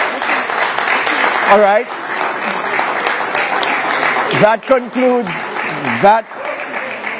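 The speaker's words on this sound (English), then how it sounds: "You can applaud." Steady, dense applause from a crowd at a televised election debate fills the whole stretch, with someone speaking briefly over it near the end.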